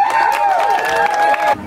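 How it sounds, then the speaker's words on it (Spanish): A crowd at a graduation celebration applauds the graduate's parents, with loud clapping, cheers and whistles that cut off abruptly near the end. "un fuerte aplauso"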